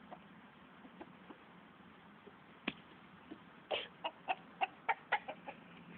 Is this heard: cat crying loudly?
no